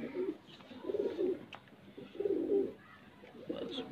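A white-eyed high flyer pigeon with a red head coos in repeated low, throaty phrases, about four rounded bursts, close and fairly soft with no talking.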